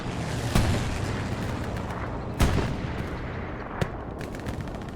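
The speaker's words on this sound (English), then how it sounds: "Strafing run comes in" Strafing-run gunfire in the video game Hell Let Loose on the Purple Heart Lane map: three sharp, heavy bursts of shots crack out over a dense, continuous battlefield rumble.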